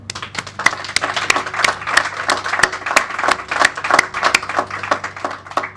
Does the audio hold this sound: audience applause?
yes